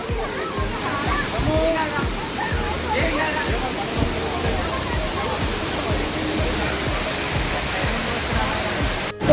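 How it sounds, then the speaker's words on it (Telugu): A waterfall at Gokarna roars as a steady, dense wash of falling and splashing water that fills the whole clip, with a voice speaking briefly over the constant rush. "ఇక్కడ ఇంకో వాటర్ ఫాల్స్ ఉంది"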